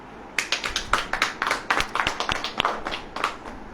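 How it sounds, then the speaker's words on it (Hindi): A church congregation at a Hindi-language sermon claps in a loud, close burst of many overlapping, slightly uneven hand claps that carry on steadily for a few seconds. "तालियां बजेगी कि नहीं?"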